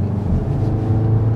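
Seat Leon Cupra R ST engine droning steadily and close, a dense low rumble holding an even level for the whole short stretch, with no voices over it.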